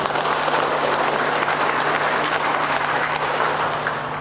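Steady applause from an audience at the 2021 Public Information Openness Awards ceremony of the DKI Jakarta Provincial Information Commission, dense and even throughout, with a faint low hum underneath.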